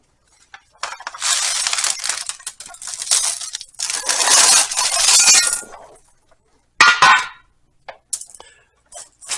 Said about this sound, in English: it's filled with glass beads to simulate food